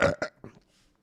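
A short, close burp in a couple of quick guttural bursts, trailing off into quiet.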